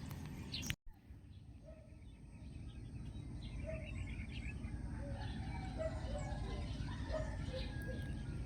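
Birds gathering at leftover dog food outdoors, with scattered soft chirps and tweets spread through the clip over a low background rumble, faint and at a middle distance, after a brief sharp knock near the start.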